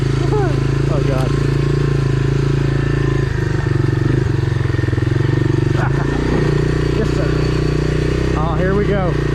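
A Honda Big Red 250es three-wheeler engine drones loud and close while riding over logs and through brush, a constant buzzing rumble with revving swells and someone talking over it.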